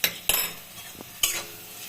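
Potatoes and bitter gourd frying in a pan, quiet sizzling under a few sharp scraping stirs of a spatula against the metal, with about three distinct strokes over a couple of seconds.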